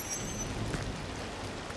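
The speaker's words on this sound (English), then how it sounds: "It's already raining." Steady rain in the Disney Dreamlight Valley video game, a soft continuous patter filling the scene at even loudness with no voices over it.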